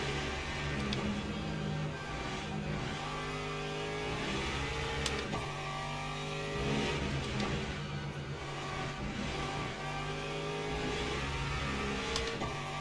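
A Porsche GT3 race car engine at Spa in the Le Mans Ultimate racing game, a steady loud drone with shifting harmonic tones and occasional rising and falling revs, continuous throughout.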